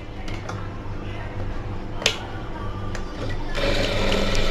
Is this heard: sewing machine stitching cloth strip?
yes